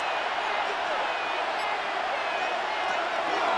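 Dense stadium crowd roar at Arrowhead in a Madden game between the Kansas City Chiefs and Philadelphia Eagles, a steady loud wash of noise on a third-and-goal play, continuous and even throughout.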